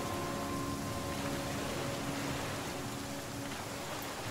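Steady rain pours down in a river survival game, a dense, even hiss of falling drops that stays constant throughout with no voices over it.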